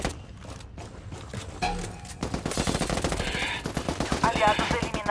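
Rapid automatic gunfire in a Ghost Recon multiplayer match, sparse shots at first, then sustained loud bursts of machine-gun fire with rhythmic repeated cracks.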